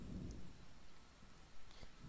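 Steady rain falls in the video game XING: The Land Beyond, a faint, even hiss with a soft low rumble and no voices.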